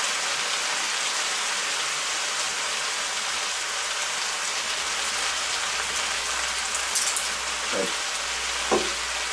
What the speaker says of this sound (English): The sizzling is starting to